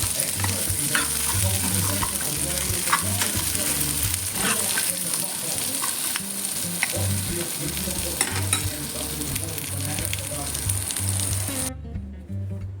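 Coconut pieces fry lightly over a low flame for a peanut-coconut chutney. A dense, steady sizzle mixes with repeated stirring scrapes, close and fairly loud, until it cuts off just before the end.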